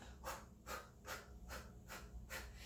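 Rhythmic breathing during sumo squat punches: about six sharp exhales come at an even pace, close and fairly quiet, with no talking.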